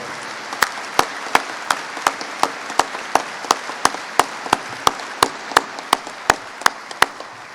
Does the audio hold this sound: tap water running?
no